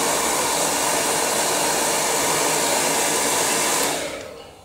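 A hair dryer blows steadily and loudly to dry paint on a quirky-house painting, a continuous broadband whoosh that cuts off near the end.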